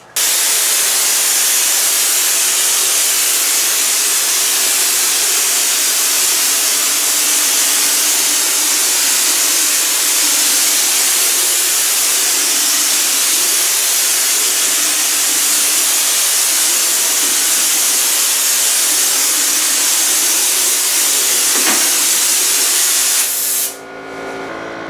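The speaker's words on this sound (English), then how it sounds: "let's crank this up and we'll start spraying this wall" A drywall texture sprayer blasts mud onto a wall as a loud, continuous hiss that lasts nearly the whole time. It cuts off abruptly at the end, and no one speaks.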